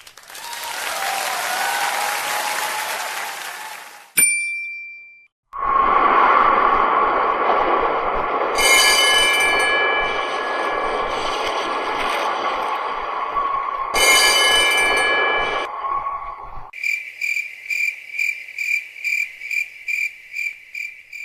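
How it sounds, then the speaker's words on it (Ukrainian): A long, steady rumbling roar of a tram rolling on rails, with squealing and high ringing tones layered over it, ending in a rhythmic bell-like pattern. "звучить трамвай."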